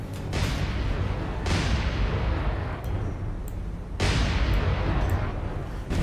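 Torpedoes launch from a warship in the naval game War on the Sea, with a few loud booming bursts whose rumbling noise decays between them. No voices are heard.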